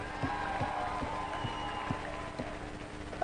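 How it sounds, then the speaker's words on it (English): A big school audience applauds at the close of a presentation, fairly quiet and somewhat distant clapping filling a large hall, with a few sharper claps standing out. "Can you guys give yourselves a round of applause?"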